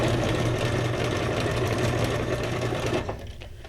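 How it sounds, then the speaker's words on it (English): Sewing machine running a zigzag stitch, a fast steady mechanical whir and rattle up close that slows and fades in the last half second. "since I got the sewing machine going here, turn this back to the zigzag"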